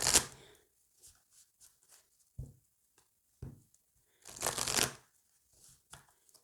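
Oracle cards being shuffled by hand come through in a few short, quiet riffles and soft slaps separated by pauses, with nobody speaking.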